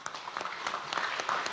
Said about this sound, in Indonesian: Tepuk tangannya kan nggak meriah.